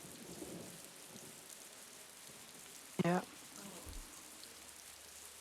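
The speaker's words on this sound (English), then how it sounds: "Well, it is called heavy rain." Heavy rain pours steadily in a video game, a soft continuous hiss with a brief louder burst near the middle and a single spoken word.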